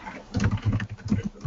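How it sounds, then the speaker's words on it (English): Rapid, uneven clicking of keys on a computer keyboard, close and moderately loud, with no voices. "And I hear typing away."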